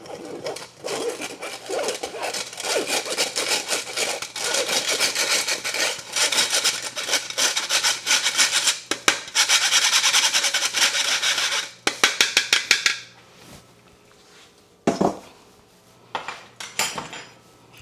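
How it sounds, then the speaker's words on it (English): Flour, salt and other dry cupcake ingredients are sifted together in a steady, loud scraping and rasping rhythm that runs for about twelve seconds, then gives way to a few isolated taps and knocks. "I'm going to sift all of those together and mix them up really well."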